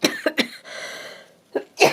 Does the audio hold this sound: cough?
yes